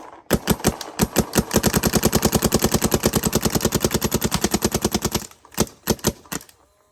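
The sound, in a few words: Planet Eclipse 170R paintball marker test firing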